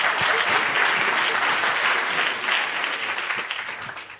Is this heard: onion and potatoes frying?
no